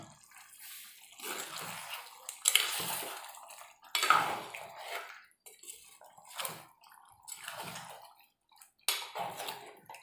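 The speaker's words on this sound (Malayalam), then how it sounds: "ഒന്നും കൂടി ഒന്ന് ഇളക്കിയിട്ട് കൊടുക്കാം" A spoon scrapes and clinks against a pot of chicken curry in bursts, separate stirring strokes with short quiet gaps between them, close and moderately loud with no voices.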